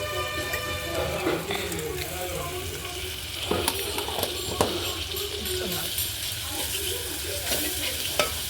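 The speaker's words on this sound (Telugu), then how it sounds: "ఇప్పుడు అల్లం వెల్లిపాయ పేస్ట్ రెండు చెంచాలు వేసుకున్నా" Ginger garlic paste sizzles in hot oil for a village-style fish curry cooked on a wood-fired stove, a constant close frying hiss broken by scraping stirs and the odd metallic clink, with a voice speaking at moments.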